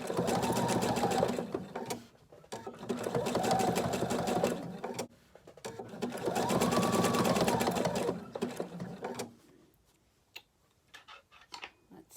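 A sewing machine stitches a small zigzag around an appliqué on a fabric coaster. It runs in three steady bursts of rapid mechanical whirring separated by short pauses, then ends with a few scattered clicks.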